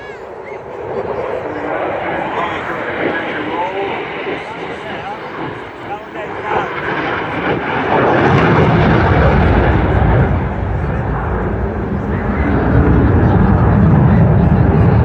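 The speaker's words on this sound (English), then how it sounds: "Positioning the aircraft flying through there at around 500 miles an hour." Jet aircraft roaring past at around 500 miles an hour at an airshow, its afterburners lit, the noise building from a steady rumble into a loud, broad roar that stays strong through the end while a commentator talks over it.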